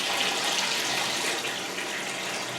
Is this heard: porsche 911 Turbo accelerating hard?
no